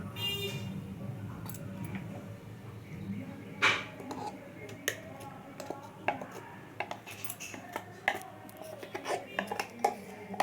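Ground ash gourd peel paste with a little potato is scraped and poured into a bowl, giving scattered clinks and scrapes of a utensil against metal over a low room hum.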